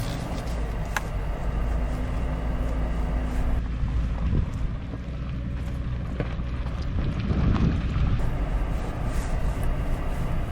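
A 2021 Lexus LX570 off-roader creeps through a tight turn in crawl control with turn assist, its engine a low steady rumble under wind noise, with intermittent clunks, clicks and crunching from the terrain and drivetrain.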